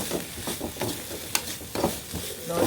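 Onions being sautéed in a pan for a prawn thoran, with a continuous close sizzle and repeated scraping stir strokes, plus a sharp clink midway and no talking.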